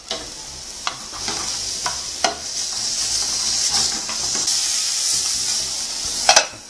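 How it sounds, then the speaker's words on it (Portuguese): Hamburger patty frying in hot oil in a pan, a constant bright sizzle with a few sharp crackles and clinks of cookware scattered through it, no voices. "pego uma tampa, tampo e frito dos dois lados."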